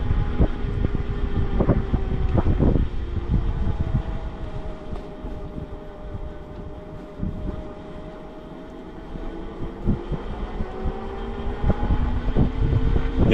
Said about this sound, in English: Motor is very quiet. I'll let you listen to it through this section here.